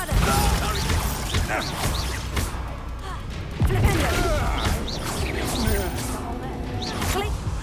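Bombarda blasting spells cast in the game Hogwarts Legacy, loud bursts and crashes scattered through dense combat noise with whooshes and thuds, shouted voices over the fighting.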